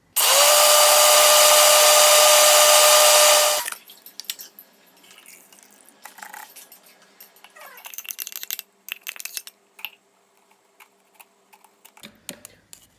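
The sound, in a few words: blender blending rice and water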